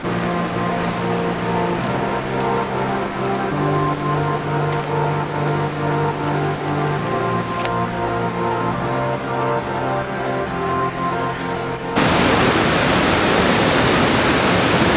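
The Krimml waterfalls in Austria roar as a loud, dense, unbroken rush that cuts in abruptly over the final few seconds, after a long stretch of steady tonal music.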